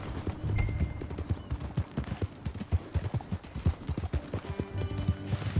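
Horse hooves clip-clop steadily along a trail in the video game Red Dead Redemption 2, a brisk, even rhythm of close, distinct hoofbeats heard without talk.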